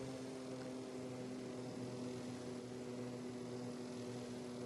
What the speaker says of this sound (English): Reverse thrust and brake applied to stop the plane.